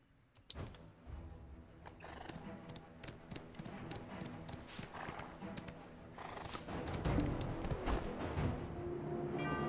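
In the Black Desert Online video game, a horse's hooves clip-clop in a steady, uneven rhythm, with a whinny near the start. The hoofbeats build in loudness toward the end over a faint background.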